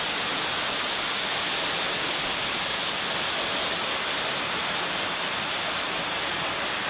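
Heavy rain during Tropical Depression Verbena in Masbate, a dense, steady roaring hiss of downpour with no breaks, fairly loud and constant throughout.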